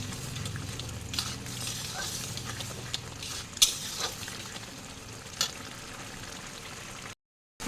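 Ginger paste hits a hot pan and sizzles steadily, with frying crackle, scraping stir strokes and a couple of sharp clinks of a utensil against the pan, fairly close and with no talking.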